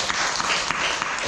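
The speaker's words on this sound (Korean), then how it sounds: "예, 박수." At a Buddhist temple's new-moon dharma gathering, listeners applaud after a reading with a short burst of dense clapping from a roomful of people, steady and fairly loud.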